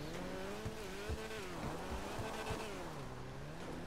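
A Datsun Fireball car in GTA 5 Online drives uphill, its engine droning with wavering pitch as it climbs, steady and loud, with occasional thuds and tire noise underneath.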